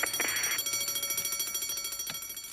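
A building security alarm rings continuously with a rapid, even electronic pulsing, loud and close. Brief knocks and clatters sound over it.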